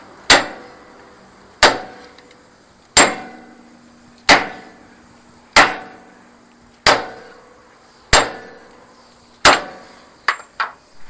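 Hammer blows strike a truck wheel axle to straighten it during wheel alignment, eight loud ringing metallic clangs at a steady interval of about one and a half seconds, ending with two quicker lighter taps.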